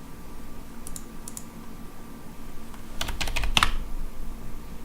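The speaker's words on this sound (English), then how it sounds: "I was just typing something to see if that works." Computer keyboard typing during a Might and Magic X Legacy play session: a few scattered key taps, then a quick burst of rapid clicking keystrokes over a faint background hum, close and crisp, no talking.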